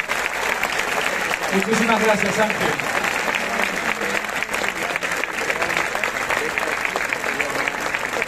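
Crowd applause closing the proclamation speech of the Lerma town festival for the Nativity of Our Lady, steady loud clapping throughout while someone speaks briefly over it.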